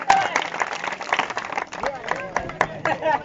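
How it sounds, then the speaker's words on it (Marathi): An audience at a lavani dance competition claps for a dancer, an uneven burst of hand claps mixed with cheering and lively crowd voices throughout. "जोरदार टाळ्या तन्नूसाठी."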